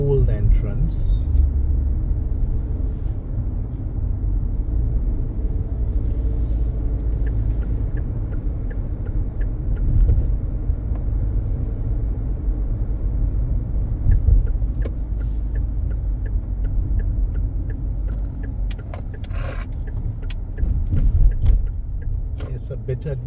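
Car driving down a rough road toward Bats Rock Beach in St. Michael, Barbados, a steady loud engine and road rumble throughout with occasional clicks and rattles, and a voice talking over it.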